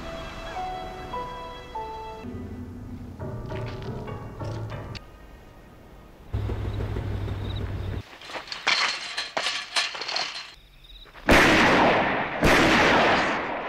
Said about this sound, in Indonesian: Tiba-tiba Jack terkaget mendengar suara tembakan.